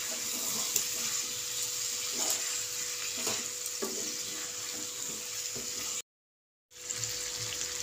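Chicken sautéed with a little turmeric and ground pepper, stirred in a pan while cooking a begmoti chicken dish: a steady soft sizzle with scattered scraping stir sounds, briefly cut to silence before resuming.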